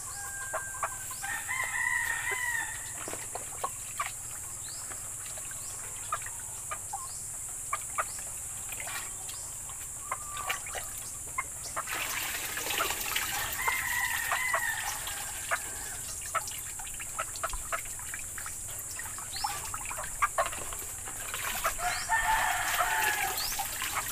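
Chickens and roosters at a small backyard breeder's yard crow and cluck repeatedly, with several crows ringing out over a steady background hiss and scattered clucks throughout.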